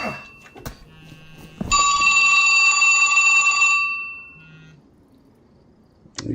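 A phone rings with a bright electronic bell tone, sustained for about two seconds after a few short clicks and knocks, then fades out into a quiet room.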